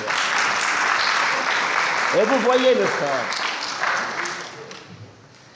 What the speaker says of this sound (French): Et maintenant on peut applaudir Dieu parce qu'il nous a exorcisés